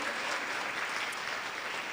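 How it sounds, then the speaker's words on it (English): Audience applause at a Columbus Metropolitan Club panel on Gen Z girls, a dense, steady wash of many hands clapping together for the full stretch, fairly soft and even with no talk over it. "Yeah, you can clap."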